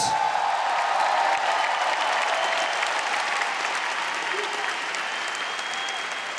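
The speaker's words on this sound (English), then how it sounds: "a big round of applause for your warriors!" Broad, continuous applause and cheering from an arena crowd at a women's ONE Championship fight, loud and steady and slowly fading, with an announcer's voice faintly underneath.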